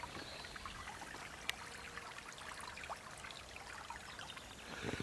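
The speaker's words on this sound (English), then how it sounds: "Can you hear the water again?" A little brook trickling and burbling steadily, faint and distant, with soft continuous splashes and no voices.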